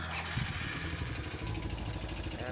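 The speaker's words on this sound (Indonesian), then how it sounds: "RPM disetel banter, RPM disetel tinggi lur, biar sedotannya semakin kencang, semakin dahsyat." A motorcycle engine is held at high RPM during an engine flush suction, giving a faint, steady mechanical drone with a pulsing low rumble throughout.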